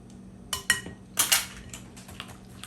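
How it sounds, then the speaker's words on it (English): A utensil clinks and scrapes in a bowl while mixing sugar, salt, cinnamon, vanilla and milk for French toast, a few quick close taps in short bursts over a quiet background. "I'm just going to mix it all together until it's well incorporated"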